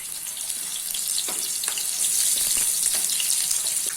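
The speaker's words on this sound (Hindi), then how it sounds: "ऑनियन को हाई फ्लेम पे गोल्डन ब्राउन होने तक फ्राई कर लेना है" Sliced onions fry on high flame in hot oil for a mutton korma. A steady, close sizzle hisses throughout, with faint stirring clicks underneath.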